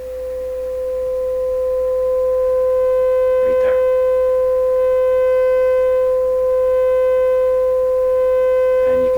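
A distorted sine wave test tone from an APHEX Tubessence model 107 stereo mic mixer holds steady and buzzy with strong overtones, accompanied by a brief spoken remark.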